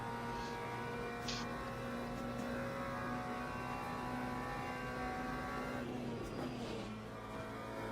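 A race car engine in Le Mans Ultimate screams at a steady high pitch through the Porsche curves at Le Mans, then spikes as it over-revs near the end, loud and continuous with no talk.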